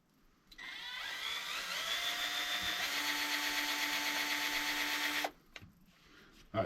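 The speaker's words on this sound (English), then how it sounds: "I'm just going to make a couple starts here so that drill bit doesn't walk all over on me." Power drill spinning a bit to start a pilot hole in a live-bait bobber float, a steady high whine running about five seconds with a pitch shift midway, then cutting off.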